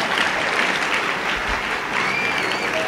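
Audience applause at a UCLA talk by Fred Rogers, a dense, steady wash of many hands clapping that fills the whole stretch at even loudness with no voices over it.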